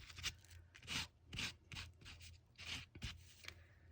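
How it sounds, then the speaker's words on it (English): Paint is rubbed onto a junk journal page for a mixed media piece, making about eight soft, papery scrubbing strokes in an uneven rhythm, close and fairly quiet. "I'm going to take a little of this and just rub it on"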